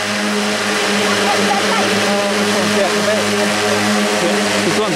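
A DJI Agras agricultural spray drone runs its motors at steady RPM, giving a loud, continuous buzzing drone with a shaking, resonant hum throughout.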